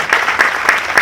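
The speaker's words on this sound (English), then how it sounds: "Yeah, round of applause." Audience at a memorial event for Mark Waters gives a brief round of applause, close and fairly loud, with a few distinct claps standing out rhythmically over the clapping crowd.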